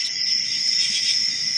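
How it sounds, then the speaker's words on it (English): Steady, high-pitched cricket chirping trills continuously, fairly loud and close, with a faint low background hum and no voices. "Boy, the crickets were cued perfectly then."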